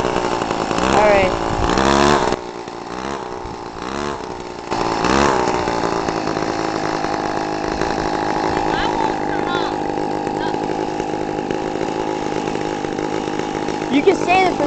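A fast scooter's small engine idles with a steady, loud, buzzing drone close by, dipping briefly at times, while people talk over it.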